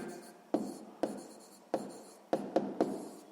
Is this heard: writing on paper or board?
yes